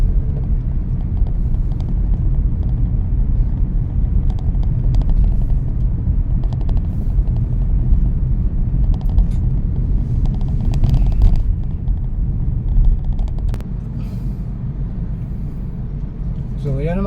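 Steady road and engine rumble from inside a car driving through city traffic near the Quezon Avenue stoplight in Metro Manila, continuous and fairly loud throughout, with a slight drop near the end.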